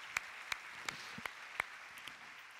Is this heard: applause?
yes